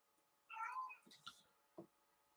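A house cat gives one faint, drawn-out meow followed by a couple of soft chirpy calls and small rustles in a quiet room.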